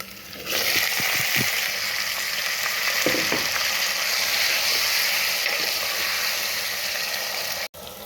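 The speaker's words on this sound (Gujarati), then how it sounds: "હવે આપણે જે કટ કર્યા હતા ટમેટા એ નાખી દઈશું।" Chopped tomatoes hit a hot pan for sev tamatar sabji and sizzle loudly and steadily. A few soft stirring knocks come near the start, and the frying hiss carries on without pause.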